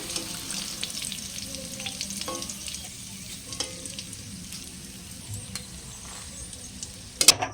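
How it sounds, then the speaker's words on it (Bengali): Bay leaf, dried chillies and panch phoron fry in oil with a quiet, steady sizzle, occasional stirring taps, and a sharp clink and crackle at the very end. "এই তেলের মধ্যেই তেজপাতা, শুকনো লঙ্কা, 5 ফোড়ন আর দিয়ে দেবো কাঁচা লঙ্কা কোড়া।"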